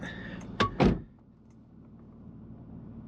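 Door of a Land Rover Discovery 3 pulled shut, giving two close heavy thuds about a quarter second apart, the second louder, after which only low background hum remains.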